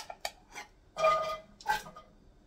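Chopped carrots and potatoes tumble into a large cooking pot for an Amish golden stew, a few soft knocks followed by two louder clattering pours close by, with no talking.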